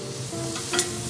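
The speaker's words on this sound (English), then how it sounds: "Fry the chopped onion in olive oil without colouring it." Chopped onion frying in olive oil, with a soft, close, continuous sizzle and a brief stirring scrape near the end.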